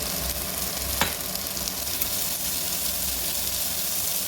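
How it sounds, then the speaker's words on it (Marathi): Ginger garlic paste sizzles in hot oil in a pan, a steady broadband frying hiss with one sharp crackle near the start, continuous and fairly close, no voices. "त्याच्यानंतर अद्रक लसूण पेस्ट आहे इथं, ती पण मी टाकते."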